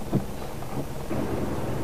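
Heavy rain pours down during flooding in Davao City, a dense steady wash of noise with a low rumble and a brief thump near the start, fairly loud and with no voices.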